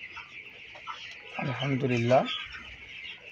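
A flock of 23-day-old broiler chickens on a farm keeps up a steady high cheeping and clucking throughout, while someone speaks briefly over them in the middle.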